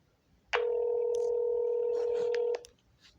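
A telephone handset sounds one steady electronic dialing tone that lasts about two seconds, close and clear, then cuts off into a quiet room hush.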